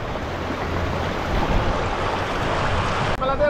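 River water flowing at a campsite, a steady rushing wash that stays even and fairly loud throughout, with a brief knock near the end and no talking.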